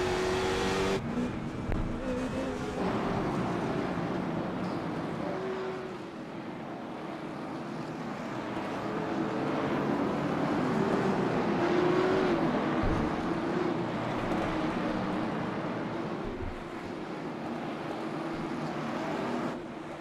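Race car engines drone steadily through laps of an oval-style race, a sustained engine roar with pitch shifts as cars pass, fairly distant and continuous without talk.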